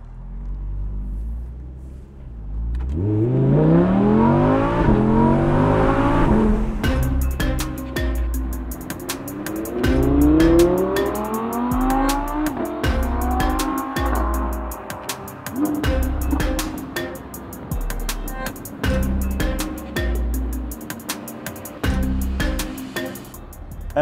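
An Audi R8 sports car revs and accelerates through the streets of Monaco, its engine rising in repeated climbing pitch sweeps through the gears, loud and close, with rumbling lulls between pulls.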